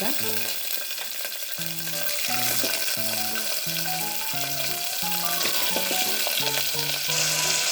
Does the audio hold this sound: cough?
no